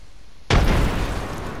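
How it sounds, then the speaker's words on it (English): A grenade goes off in the video game Apex Legends, a single loud, close boom that bursts suddenly and leaves a rumbling roar tailing off, with no talk over it. "Grenade out!"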